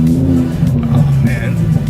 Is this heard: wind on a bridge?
no